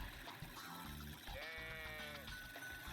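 Sheep bleat in the Wizards 4 video game: one drawn-out, wavering bleat rises over a dense, steady bed of game music and effects, with a few shorter bleat-like calls around it.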